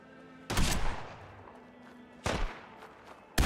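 Gunfire in the video game Fallout 4, three separate bursts of sharp, loud shots spaced over a few seconds with quieter gaps between.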